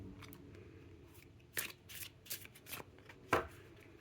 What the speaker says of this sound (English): Once again, I'll try to shuffle.